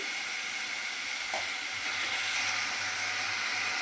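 Bitter gourd sizzles steadily in a little oil in a pan, a continuous close frying hiss with a faint low hum beneath it and no talking.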